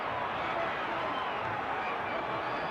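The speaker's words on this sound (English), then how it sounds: "Crowd exhorting Ali on." A boxing arena crowd roars steadily during the Bonavena vs. Ali fight, a dense continuous wash of cheering voices that stays loud and even throughout, without breaks.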